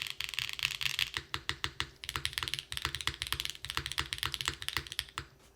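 Steady fast typing on a Neo75 CU mechanical keyboard fitted with small inserts, a bottom-mount setup, giving a run of crisp, close keystroke clacks in uneven bursts with no talking.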